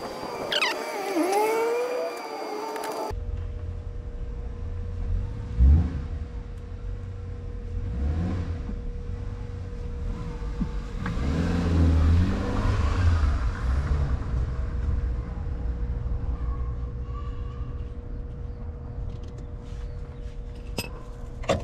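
A Triumph Street Triple 675 motorcycle engine runs steadily to warm up during an oil change, giving a continuous mid-range hum that swells slightly in the middle and stays fairly close, with no talking over it.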